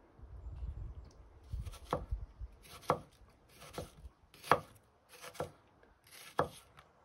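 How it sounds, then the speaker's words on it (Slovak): A convex-ground RVL34 steel kitchen knife slices through an onion while pilaf is prepared, giving about seven crisp, evenly spaced cuts against a board, close and clear, with a low rumble early on. "Ukážem vám, ako je cibuľa sa krája."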